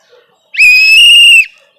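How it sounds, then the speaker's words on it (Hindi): A single sharp, loud whistle blast held steady for about a second, close and piercing, with near silence around it. "आप सीटी बजा के आप किस को भगाएंगे?"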